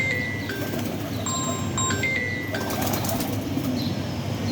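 A performing Teddy pigeon from a Qasoor Lalyani loft flaps its wings in a few quick bursts, mixed with thin whistle-like bird tones and a steady outdoor background.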